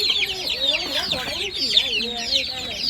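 Native chicken chicks, shown for sale alongside quail chicks, peep and cheep continuously in a busy, overlapping chorus close by, with no talking.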